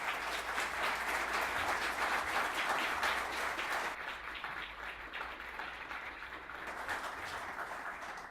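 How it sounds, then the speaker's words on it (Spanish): A large audience at a book presentation in a foundation hall claps steadily, a dense sustained wash of hands that eases slightly in volume partway through, with no talking over it. "Un fuerte aplauso, por favor."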